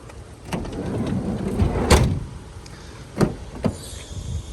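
A solid thump as a sliding door on a 2007 Honda Odyssey EX-L minivan is shut, followed by two lighter knocks, heard up close with no talking.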